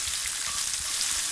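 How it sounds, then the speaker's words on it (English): Chopped red onion and herbs sauté in a hot pan, a soft, steady sizzle and crackle running close and even throughout, with no voices. "saute the entire thing with 1 large red onion just roughly cut so that it gets a good pink color and softens gently"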